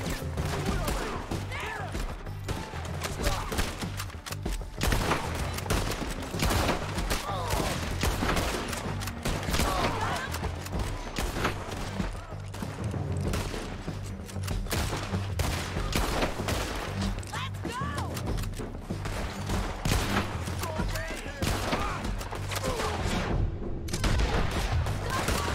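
Gunfire from Red Dead Redemption 2, a western video game, crackles almost continuously as rapid overlapping shots and booms, loud and dense throughout with brief gaps.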